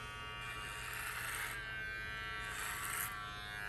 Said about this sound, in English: So the way I do that is by doing clipper over comb